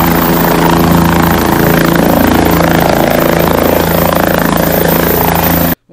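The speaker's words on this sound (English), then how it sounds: "there was a helicopter that landed" A landed helicopter near a ski area roars loud and steady, with a dense rotor and engine drone filling the air without a break before stopping abruptly at the end.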